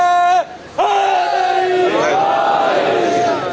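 A crowd at a Muharram majlis loudly shouts a long, drawn-out religious slogan, with a lead voice holding the call before massed voices join in a sustained, forceful chant.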